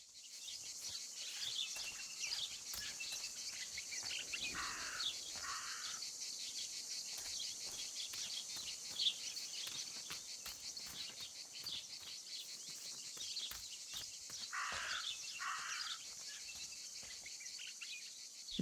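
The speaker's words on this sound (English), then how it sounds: "Maybe it's the same raven that killed that poor sparrow." A raven in the game Martha Is Dead gives two short double caws, spaced well apart, over a constant shrill bed of cricket and insect chirring in an outdoor scene.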